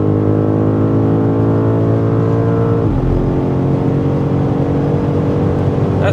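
A 2025 BMW M5 Touring accelerating at high speed on the autobahn, its engine a loud steady drone with a brief gear-change dip partway through, then pulling on with wind and road roar.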